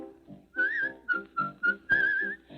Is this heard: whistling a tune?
yes